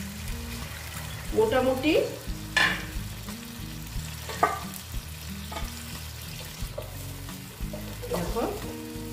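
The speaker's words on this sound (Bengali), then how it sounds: "এবার আমি এখানে একবারে জল দিয়ে দিচ্ছি।" Water poured into a pan of pabda fish curry with hot oil; a broad frying sizzle rises, then settles into steady bubbling and clinks of stirring, with someone speaking briefly over it.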